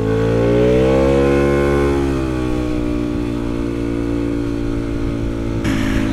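A Yamaha Aerox 250 scooter engine accelerates while riding through city streets, its close, steady drone rising in pitch and then easing off to a lower cruising tone.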